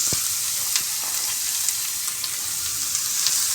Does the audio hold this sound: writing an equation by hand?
no